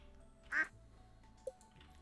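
A duck in the farming video game Stardew Valley gives one clear quack, followed by a short softer blip, over quiet game background with no talk.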